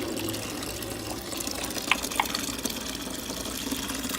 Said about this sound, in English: Transferring into the fermenter now.